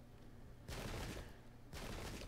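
In the Pike and Shot video game, two crackling bursts of musket volleys sound, each about a second long and separated by a short lull over low background noise.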